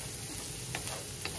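Chopped onions and jalapenos fry in a pan, a dense steady sizzle with a couple of faint ticks, close and continuous, no talking.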